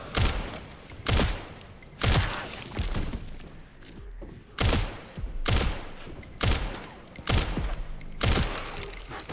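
Gunfire in the survival horror game Resident Evil Requiem, set in a police station: loud sharp shots ring out one by one at irregular intervals of about a second, each with a short ringing tail.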